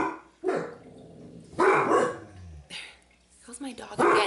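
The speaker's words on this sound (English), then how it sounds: "goes my dog again. He's always got something to say." A pet dog barks indoors in several short, sharp bursts spaced irregularly across a few seconds, fairly close and moderately loud, with a whimpering yip near the end.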